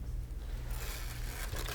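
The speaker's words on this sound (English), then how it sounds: "I'm going to take my scissors and I'm going to open this bag by cutting a hole very small at the very end" Scissors snip a small hole in the tip of a plastic icing bag while decorating Christmas cookies, a short close scraping, rustling cut over a low background hum.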